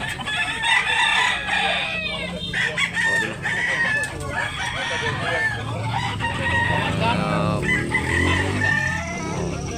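A white claret gamecock rooster crows loudly and up close, with clucking between the crows. People talk over it.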